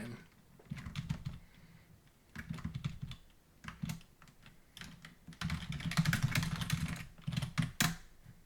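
Computer keyboard typing in bursts of quick clicking keystrokes, close and fairly loud, with short pauses between runs and no talking.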